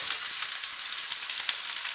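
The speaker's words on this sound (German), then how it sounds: "Zuerst packen wir die Zwiebeln und die Champignons in die Pfanne" Onions and mushrooms fry in a hot pan, giving a steady, close, bright sizzle with small crackling pops throughout and no talking.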